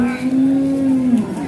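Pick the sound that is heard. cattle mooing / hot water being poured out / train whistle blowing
cattle mooing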